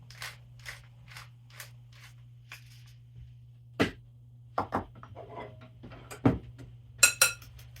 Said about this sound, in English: some freshly cracked black pepper